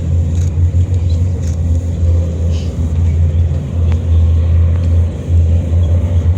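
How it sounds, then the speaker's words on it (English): Leopard 1 tanks and M113 armored personnel carriers driving past during a military exercise, a loud, steady deep engine rumble with continuous low droning and grinding that stays heavy throughout. "the second armed platoon consists also of Leopard 1 tanks and is followed by company reserves"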